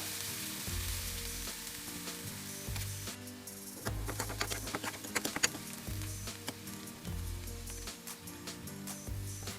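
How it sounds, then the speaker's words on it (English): Garlic and onion sauté in oil over a medium flame, a soft continuous sizzle broken midway by a burst of rapid crackles and spatters as the pan is stirred, with no talk. "Keep the flame on medium and add garlic and onion. Saute for some time until translucent"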